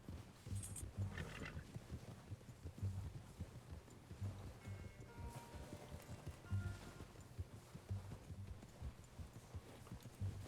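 Horse hooves clip-clop at a steady, rhythmic pace in Red Dead Redemption 2, heard fairly close amid a low rumble of outdoor game ambience.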